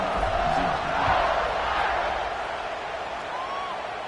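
A football stadium crowd roars steadily before the kickoff that follows an extra point, a dense, continuous wall of cheering that swells briefly and then holds, with faint announcer-like talk blended in.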